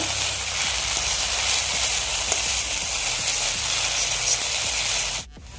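Egg being stirred into Maggi noodles sizzles loudly and steadily in a hot pan, with faint scraping stirs throughout until the sizzle suddenly drops off at the end.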